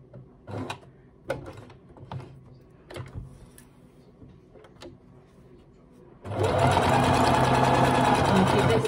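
A domestic sewing machine runs a seam on a duffle coat in one loud, steady close burst after a few seconds of quiet handling knocks and brief talk.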